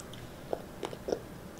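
A chocolate popsicle's crunchy shell is bitten and chewed close up, giving a few quiet crackling crunches spread over a second or so, with no talking.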